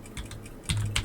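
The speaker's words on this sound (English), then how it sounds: "I need to get a keyboard here to do this." Someone types on a computer keyboard in a short run of close, crisp keystrokes, a few of them sharper, with no talking.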